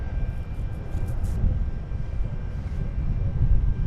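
A Sun Country Boeing 737-800 departs DFW Airport for Cancun, its engines a steady, broad jet roar that holds at an even level without pause and carries no voices.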